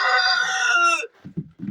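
Rooster crowing in a chicken coop during bitter cold weather, one long loud harmonic crow close by, followed by a few short low clucks from the hens.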